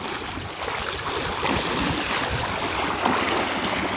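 Knee-deep floodwater sloshing and churning steadily, a continuous rushing wash of moderate loudness with no voices over it.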